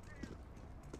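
Footsteps in a Counter-Strike: Global Offensive pro match on the Cobblestone map, a quick run of soft clip-clop thuds over steady game ambience at low level.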